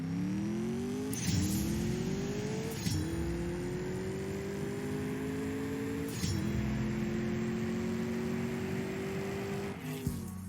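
Simulated engine of a TVR Sagaris race car in the CSR2 drag racing game, revving loudly and climbing through several gear shifts with brief dips at each change, steady and close throughout with no talking.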